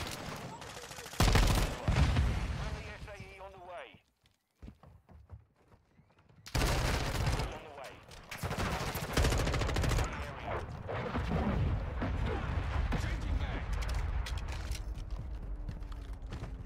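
LMG machine gun fire in the video game Modern Warfare 2, loud rapid bursts of automatic shots with a gap of near silence partway, then more sustained firing and mechanical clatter, with players' voices talking over it.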